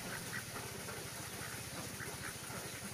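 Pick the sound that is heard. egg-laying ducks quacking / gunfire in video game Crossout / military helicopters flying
egg-laying ducks quacking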